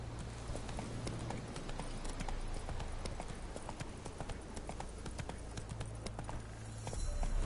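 A horse galloping in The Witcher video game, with rapid, rhythmic hoofbeats drumming steadily throughout and a low music or ambient bed underneath.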